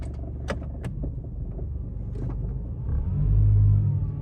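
A 2016 Mitsubishi Lancer engine with a fault idles in a steady low rumble, joined by a few sharp clicks and knocks, then swells into a louder, deeper surge near the end.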